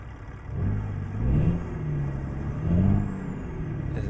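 A truck engine from a Kriechbaum engine sound mod in a driving simulator revs twice, rising and falling over a steady mid-pitched idle drone, with no talking.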